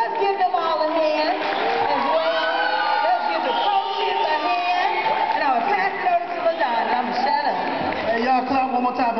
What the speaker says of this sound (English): Let's give them all a hand.